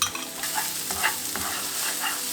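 Onion and garlic fry in cooking oil in a pan for a chicken and cabbage dish, giving a steady broadband sizzle with soft scraping stir strokes at intervals and no voices.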